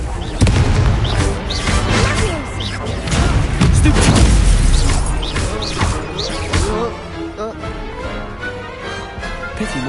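Confringo spell blasts in a Hogwarts Legacy duel, a string of loud booming explosions and crashes over several seconds, then fading into quieter rumbling.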